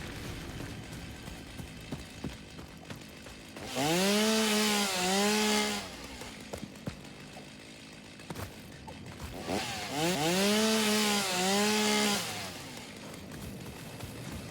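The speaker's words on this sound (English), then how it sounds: "Don't ask how sawing a bush kills the tree as well" Chainsaw revving in the game Satisfactory as a bush is cut down, two loud sustained bursts of about two seconds each with wavering engine pitch, separated by quieter background.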